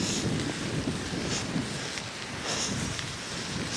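Continuous heavy rushing of rain and gusting wind buffeting the microphone, loud and unbroken throughout.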